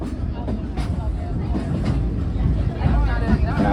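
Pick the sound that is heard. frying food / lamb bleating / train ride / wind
train ride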